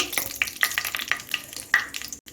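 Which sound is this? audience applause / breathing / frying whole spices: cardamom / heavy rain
frying whole spices: cardamom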